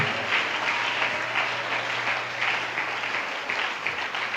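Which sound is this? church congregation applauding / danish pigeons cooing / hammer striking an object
church congregation applauding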